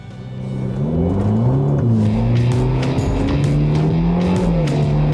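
A Ferrari Roma's twin-turbo engine roars loudly and continuously in sport mode with traction control eased, its pitch climbing and dipping as it accelerates hard through the gears, with no voices.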